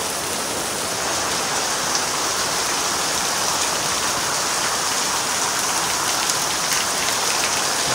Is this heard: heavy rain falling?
yes